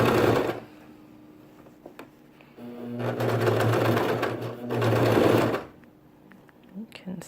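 A sewing machine stitches through three layers of wool for mittens in two sustained bursts of steady whirring with pauses between, close up, and small handling clicks around the stitching.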